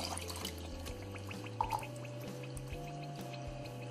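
Water trickles and drips into a pot for a soluble-coffee pudding, a quiet close splashing with small droplet ticks over a low kitchen hum.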